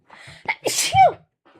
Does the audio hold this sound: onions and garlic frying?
no